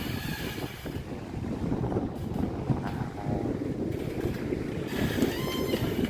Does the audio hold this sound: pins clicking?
no